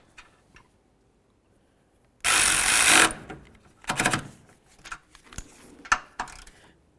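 A mounting nut is tightened onto a battery wire terminal on a 2009–2020 Dodge Journey, with a loud whirring burst from a tool followed by scattered metallic clicks and taps against near-silence.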